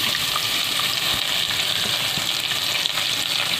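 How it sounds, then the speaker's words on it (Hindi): Garlic and onion frying in a pan make a loud, steady sizzle that runs unbroken from start to finish. "लहसुन ऐड करूँगी इसको, इसे भून लेना है इसको। साथ साथ में यहाँ पर प्याज ऐड करूँगी।"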